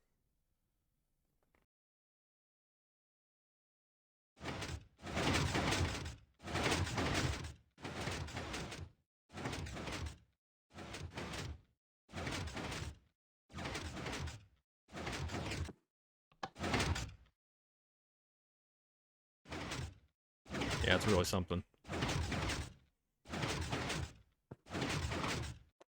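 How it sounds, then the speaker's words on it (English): A heavy vault door in Minecraft sounds off in a string of repeated bursts, each lasting about a second and clustered in two runs with a short gap between them. It is loud and close, and one voice speaks briefly. "we got a vault's door in this one, supposedly"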